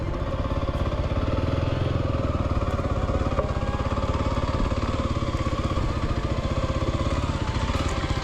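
Dual sport motorcycle at slow speed near the Sacramento River, its single engine putting out a steady, close, throbbing drone with an even rapid pulse that holds for the whole stretch, no voices.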